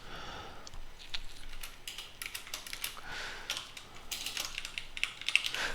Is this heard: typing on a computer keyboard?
yes